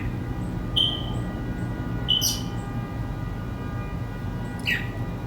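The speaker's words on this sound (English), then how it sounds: "hopefully you guys can hear the birds in the background." Birds chirp in a backyard, giving a few short, high tweets spaced a couple of seconds apart over a steady low hum and background noise.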